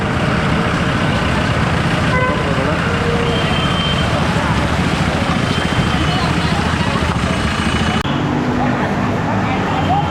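Dense road traffic backed up on a flooded road during river flooding in Roha's market area, with a continuous loud rumble of engines, scattered horn toots and sloshing movement, and a voice speaking over it.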